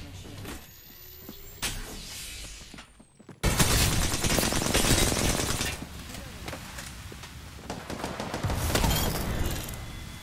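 Gunfire in Apex Legends comes as sparse shots at first, then after a sharp loud burst turns into dense sustained automatic fire with impacts, while a player talks over the action.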